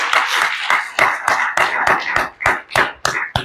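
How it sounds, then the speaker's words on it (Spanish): A church congregation claps in praise, producing loud, sharp hand claps in a brisk, fairly regular rhythm. The claps are close and alone, with no talk over them. "¿Le puedes dar un aplauso al Señor?"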